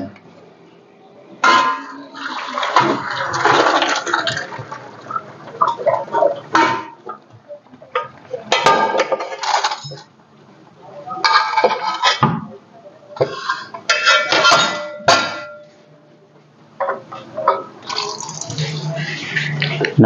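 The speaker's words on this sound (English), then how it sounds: "I'm going to drain the water from the macaronis" Boiled macaroni is drained in a home kitchen: loud bursts of pouring water and rattling pot and metal clatter come in several spurts, with quiet gaps between them.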